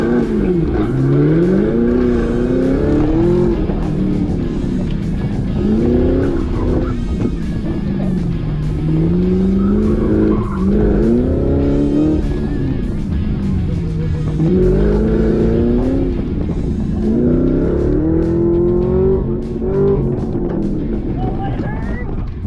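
A supercharged Chevrolet Silverado pickup races hard, its engine loud and close as it revs and accelerates in repeated rising and falling pulls through the gears, with a voice talking over the roar.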